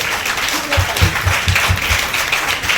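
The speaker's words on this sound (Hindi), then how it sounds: "एक बार अपने सच्चे साथी के लिए दिल से जोरदार ताली लगाना, जोरदार ताली, जोरदार ताली" A seminar audience gives loud, continuous applause for a senior upline at a business meeting, with a steady thumping beat pulsing underneath the clapping.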